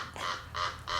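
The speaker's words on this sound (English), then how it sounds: "The bird is laughing at you." A bird gives quick, harsh honking calls, two or three nasal bursts in under a second, fairly close and moderately loud over a low background rumble.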